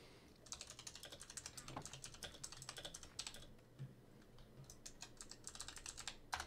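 Close, crisp typing on a computer keyboard, quick irregular clusters of keystrokes with a brief lull near the middle before the clicking picks up again, nobody speaking.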